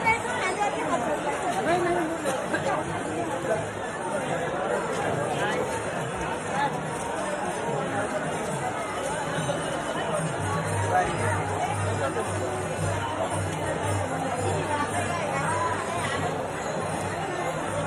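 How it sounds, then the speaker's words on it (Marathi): Crowds of pilgrims gather at Pandharpur on the eve of Ashadhi Ekadashi, near the Chandrabhaga river, and produce a constant dense babble of many voices. It sounds close and wraps around the listener, with some nearby talk mixed into the hubbub. "इथे गर्दी बघा."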